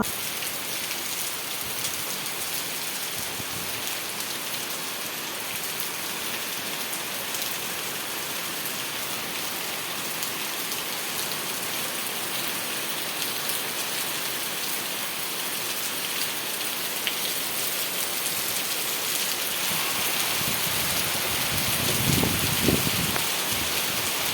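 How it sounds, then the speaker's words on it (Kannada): Heavy rain pouring down without pause, a dense, even hiss of drops on surfaces that swells slightly louder near the end, with no one speaking. "ಮಳೆ ನಿಲ್ಲುತ್ತೆ ಅಂತ ಸ್ವಲ್ಪ ಹೊತ್ತು ನೋಡಿದ್ವಿ ಆದರೆ ಮಳೆ ಇನ್ನೂ ಜಾಸ್ತಿ ಆಯಿತು"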